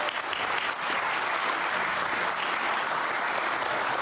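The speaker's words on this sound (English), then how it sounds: "please give a big round of applause for Portworx" At a DevOps conference, the audience delivers a full, dense round of applause, steady and loud throughout with many hands clapping together and no talk over it.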